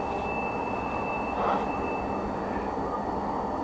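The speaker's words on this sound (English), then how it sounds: "Woo, that's loud. That's loud. We got the train on the other side." A train rumbles steadily nearby at the Tehachapi Loop with a constant roar and a faint high-pitched wheel whine running underneath.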